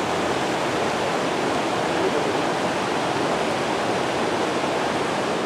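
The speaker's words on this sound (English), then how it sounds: "Little rushing water, a little waterfall, and then it evidently is way down below where I can't see." Small waterfall and rushing water in the Jasper area, a steady, even hiss of falling and flowing water with no breaks, fairly close and constant.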